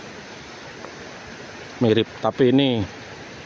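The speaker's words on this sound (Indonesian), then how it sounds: "air terjunnya lebih tinggi daripada yang di Panti" The Tancak Tulis waterfall gives a steady, even roar of falling water heard from a distance, with someone speaking briefly over it near the end.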